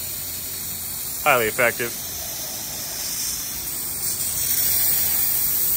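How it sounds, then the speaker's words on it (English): Aerosol can of brake cleaner working on a Jeep 4.0 Cherokee or Wrangler filter, heard as a few short hissing bursts in quick succession, then a longer soft hiss, with a voice speaking over it. "this is the new brake clean can. We haven't done this yet."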